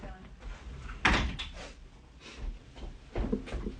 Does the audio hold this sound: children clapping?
no